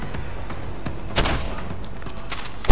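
Gunfire in Deus Ex: Human Revolution, a few sharp shots and a short burst at moderate distance over a low game ambience, with a loud blast right at the end.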